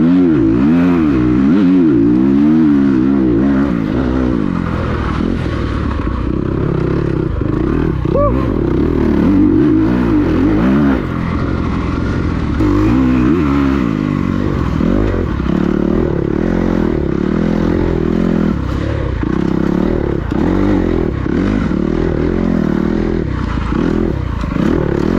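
A motocross dirt bike ridden through loose sand in an old sand quarry, its engine loud and continuous with rising and falling revs and throttle blips, close to the rider.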